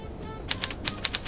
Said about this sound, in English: Get ready for the really loud typewriter any time now.